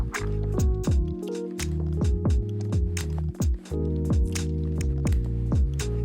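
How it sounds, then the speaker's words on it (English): A spray bottle dampens a man's hair during a scissor haircut with a fade, giving a run of short, close squirts at a fairly even rhythm over a steady tonal background hum. "I'm just going to go ahead and dampen his hair"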